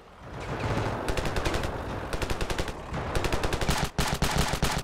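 Automatic gunfire rips through a battle in Ravenfield, with rapid bursts of machine-gun fire that pause briefly and then resume, loud and close, with no voices.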